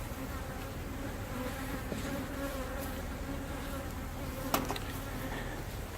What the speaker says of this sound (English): There'll be a lot of bees now